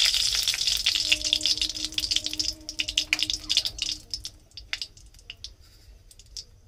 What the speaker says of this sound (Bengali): তো আমাদের তেলটি গরম হয়ে গেছে, আমরা এবার তেলের মধ্যে দিয়ে নেব দুটো তেজপাতা, একটা শুকনো লঙ্কা